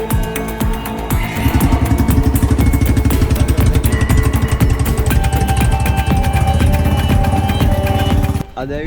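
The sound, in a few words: motorcycles on a group tour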